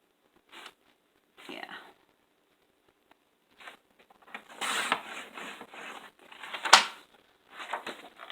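A sheet of 8.5 by 11 paper being cut into postcards with a paper cutter: short mechanical clicks and scraping slides, ending in a crisp chopping snap, with pauses between strokes.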